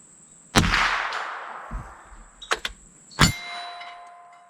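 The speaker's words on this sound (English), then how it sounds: "we're going to focus on those two gongs, 8-inch and a 6-inch gong" Shots from a MAS45A Mauser training rifle strike 8-inch and 6-inch steel gongs. Three sharp cracks each set off a bright metallic ring that fades over about a second, with a faint echo between them.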